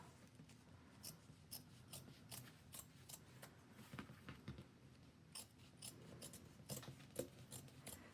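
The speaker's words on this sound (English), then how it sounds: "So I like to start with my duck scissors. These are really helpful, and trim down the seam allowance." Duck-bill scissors trim the fabric seam allowance of a shoulder bag, giving a quiet, steady run of close, crisp snips and rasping cuts with no talking.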